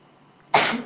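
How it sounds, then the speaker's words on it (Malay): A single sharp, loud sneeze bursts out close to the microphone after a quiet moment during an internship briefing, then fades quickly. "Bersin pula."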